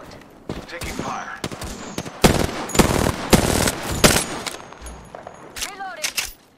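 Gunfire in the Apex Legends battle royale game: repeated loud automatic bursts and single shots in rapid, uneven volleys across the whole stretch, with game sound effects mixed in.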